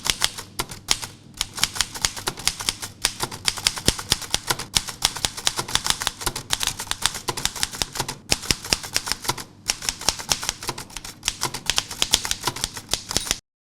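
An old working manual typewriter is typed on in a steady, fast stream of sharp key clacks, with brief pauses and occasional carriage-like thumps, close and clear.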